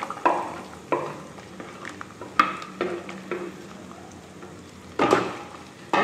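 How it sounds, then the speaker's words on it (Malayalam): Coconut pieces frying in coconut oil for a Kerala-style chicken curry, soft sizzling under repeated stirring scrapes and clinks of a utensil against the pan, close and moderately quiet with irregular bursts. "നാളികേരക്കൊത്ത് വെളിച്ചെണ്ണയിൽ വറുക്കാം."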